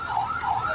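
An ambulance siren wails steadily, rising and falling in pitch, heard at the scene after an explosion in Glasgow.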